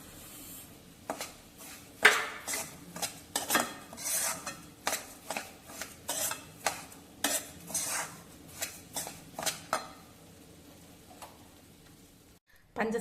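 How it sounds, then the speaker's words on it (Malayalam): Roasted semolina and sugar being stirred in a pan for rava halwa, the spoon scraping and clinking against the metal in an irregular series of soft, close taps and rubs, with no talk over it. "അതിലോട്ട് നമുക്ക് എടുത്തു വച്ചിരിക്കുന്ന പഞ്ചസാരയും കൂടെ ചേർത്ത് ഇളക്കാം."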